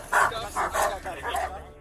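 A police K-9 dog barks several times in quick succession, sharp and fairly near, during a chase and arrest of a fleeing suspect, then the barking fades out.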